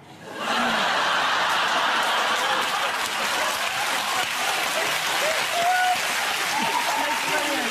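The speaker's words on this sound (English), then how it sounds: "Why are we clapping for that?" A television studio audience on a talk show bursts into sustained applause, loud and dense throughout, with scattered chuckles and voices mixed into the clapping.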